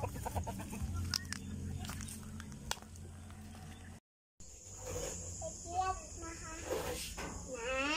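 Chickens clucking at feeding time, close cackles and soft clucks scattered through the scene with a person talking over them and a brief silent gap midway.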